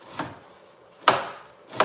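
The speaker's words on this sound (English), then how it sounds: "I'm going to chop our onion and then we'll start cooking" A knife chops through an onion on a cutting board in a home kitchen, three crisp separate knocks spaced less than a second apart, close and clear with quiet between strokes.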